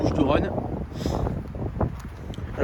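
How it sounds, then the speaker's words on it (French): Strong wind buffeting the microphone outdoors in the Bouches-du-Rhône beside a Sherco motorcycle, a rough rumbling roar that swells and dips while someone talks over it. "aujourd'hui il y a beaucoup de vent sur les Bouches-du-Rhône"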